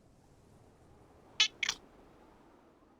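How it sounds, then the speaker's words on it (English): An elderly cat lets out two brief, sharp cries in quick succession, harsh enough to sound almost like screams, standing out alone against a quiet background. "This cat is really old, and when she meows, it's sometimes not quite a meow. It's more like a scream."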